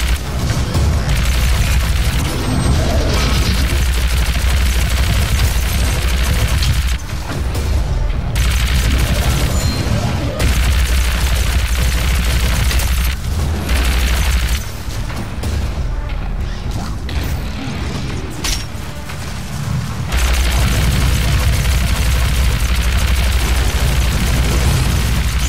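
Loud, dense gunfire in the video game DOOM, with rapid bursts and heavy booming blasts that continue almost without pause, briefly easing at moments.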